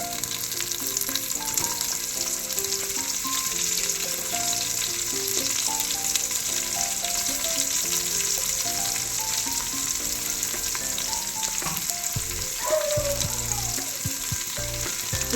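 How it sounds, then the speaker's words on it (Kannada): Onions and green chillies frying in hot oil for tomato bath give a steady, close sizzle, with a few clinks of a stirring spoon near the end. "ಈಗ ಈರುಳ್ಳಿನ ಹಾಕಿ ಡೀಪ್ ಫ್ರೈಯನ್ನು ಮಾಡ್ತಾನೆ"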